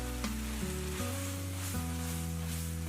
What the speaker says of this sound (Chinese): 最后下入小葱，翻炒一下，激发出香味即可。